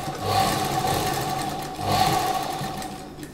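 A sewing machine stitches a slip in two bursts of fast, buzzing, rhythmic needle chatter with a brief slowdown between them, close and clear with no talk.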